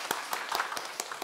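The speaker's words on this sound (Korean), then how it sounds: "위로와 또 격려, 축복의 박수 한번 하도록 하겠습니다." During a Korean Sunday worship service, a congregation claps briefly in blessing for a deacon: a handful of sharp, separate claps, quiet and somewhat distant, over about a second.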